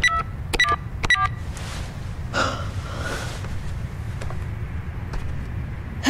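Phone number being dialed in the video game Beyond Two Souls: a few quick electronic keypad tones near the start, followed by soft breathy game ambience and faint clicks.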